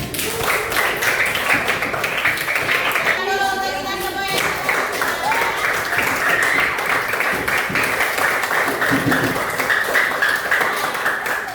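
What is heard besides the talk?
class applauding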